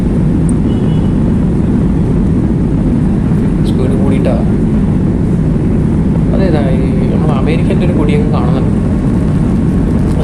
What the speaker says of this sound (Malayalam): അപ്പോൾ നമ്മളെ ഫ്ലൈറ്റ് ഇതാ പോവാണ്